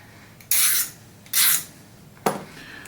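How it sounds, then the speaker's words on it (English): A deburring tool scrapes along the edge of a metal part in three short, harsh rasping strokes with brief pauses between them, close and loud. "you just scrape along the edge. This will not only create a terrible noise, but it will create a very clean chamfer on the edge."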